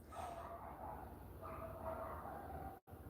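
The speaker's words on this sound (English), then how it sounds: "Then the dog started barking as I said that." A dog barks and yips repeatedly in the background, a few short bursts over a quiet indoor hum, moderately distant.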